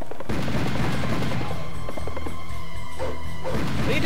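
Loud, close gunfire in Serious Sam, a rapid run of shots and impacts that fills the whole stretch with only brief lulls.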